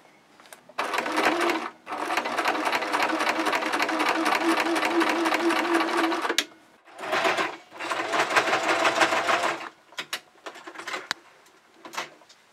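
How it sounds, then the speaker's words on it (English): A sewing machine joins the front and back bodice pieces of an 1840s Victorian dress, running in long loud whirring stretches of rapid stitching, then shorter bursts and a few isolated clicks near the end. "Now I'll sew the front and back pieces together."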